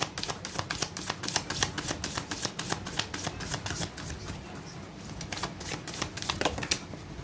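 A deck of cards handled and shuffled for a reading, a quick run of crisp riffling flicks in a steady rapid rhythm, close and soft, with no talking.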